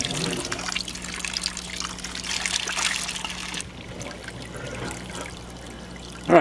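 Water trickling and splashing steadily into the cinder grow bed of an aquaponics system, a continuous close wash of flow that eases slightly partway through, with a brief louder splash at the end.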